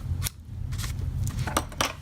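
Scissors trim the ends of a ribbon bow on a soap box craft, giving a few quiet, quick snips at irregular intervals against a faint background.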